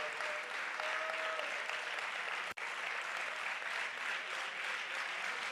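A congregation claps in praise during a Malayalam church service, producing a dense, sustained wave of applause that fills the room, with a single sharp break partway through.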